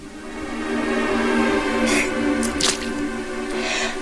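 Water dripping and leaking into an apartment in a cartoon, a few distinct wet drips and squishy splats over a low steady hum, close and moderately loud.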